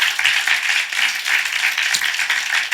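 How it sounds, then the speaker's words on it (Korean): A church congregation claps together during a Sunday morning service, a bright, dense, continuous clatter of many hands, loud and close, with a slight rhythmic pulse and no speech. "먼저 우리 하나님께 박수로 영광 돌리겠습니다."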